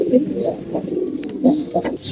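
Several soft, low pigeon coos repeat at an uneven pace, close by, alongside faint rustling and a few brief higher bird chirps.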